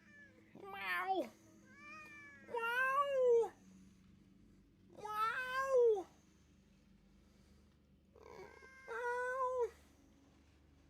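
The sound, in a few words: cat meowing in the video game Ghost of Yotei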